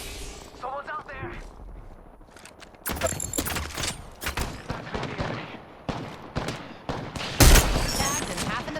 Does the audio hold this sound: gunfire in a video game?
yes